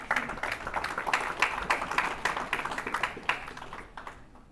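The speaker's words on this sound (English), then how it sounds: "Once again, big round of applause" Audience applause at a university sports awards ceremony: steady, fairly close clapping from many hands with dense, irregular claps throughout, tapering off near the end.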